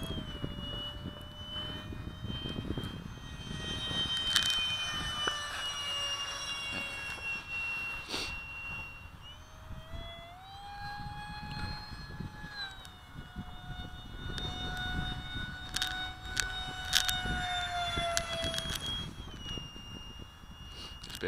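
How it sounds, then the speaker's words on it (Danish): A small EDF model interceptor jet flies overhead, its ducted-fan whine rising and falling in pitch as it passes, steady and moderately loud over outdoor background noise. "Det er et fedt lille fly."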